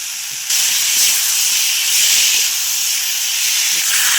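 Potatoes sizzle in hot oil in a pan for a paneer curry, a loud, close, continuous hiss that jumps up as they hit the pan and holds steady.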